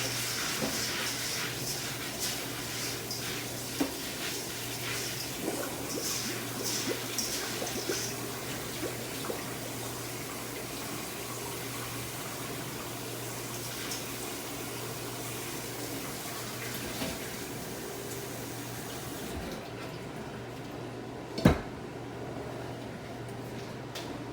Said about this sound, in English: I'm just going to rinse in warm water.